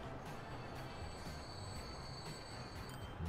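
Train running in the Transport Fever video game, a steady rumbling rail roll with metallic wheel squeal and periodic clacking pulses, moderately loud and continuous without talk.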